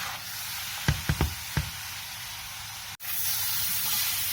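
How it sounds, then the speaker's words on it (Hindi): Carrot halwa with milk roasting over high heat in a pan, giving a steady close hiss with a few soft knocks from stirring early on and a brief dropout before the hiss resumes. "अब हम इसे अच्छी तरह से भूनेंगे ताकि हमने जो इसमें मिल्क शामिल किया है वो भी खुश्क हो जाए, और आंच तेज़ ही रखनी है।"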